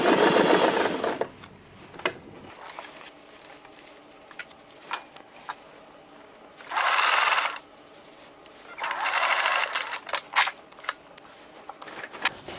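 A sewing machine stitches the waist of a pair of pants, running in two loud bursts of rapid whirring between quiet stretches filled with small clicks and handling taps.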